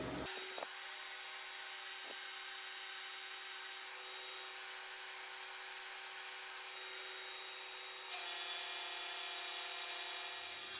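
K40 CO2 laser with air assist cutting 3/4 inch pine at a slow feed, a steady hissing hum from the air pump and machine running continuously, growing slightly louder near the end, with no talk.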